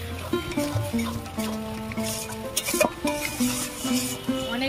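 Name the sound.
stirring lote fish in a pan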